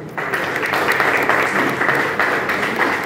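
An audience at a storytelling event claps in a steady, dense burst of applause that fills the room for a few seconds.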